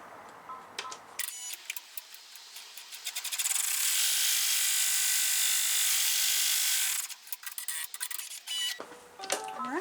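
An embroidery machine sews the final stitches of an in-the-hoop 3D flower zipper pouch, a steady loud mechanical whir with fast rhythmic clatter that starts, holds for several seconds, then stops, with handling noises around it.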